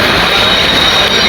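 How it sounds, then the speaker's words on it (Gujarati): A train pulls into a busy Gujarat railway station, filling everything with a loud, close, continuous rumble and screech of wheels on rails for a brief moment. "આજે આપણી ટ્રેન કમ્પ્લીટ ટાઈમ પર કેમની આવી ગઈ છે"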